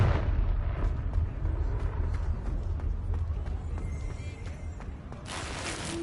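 The Confringo spell in Hogwarts Legacy goes off as a deep, rolling explosion. Low rumble persists for several seconds before a sharp, bright burst flares at the end, loud and close, with no speech.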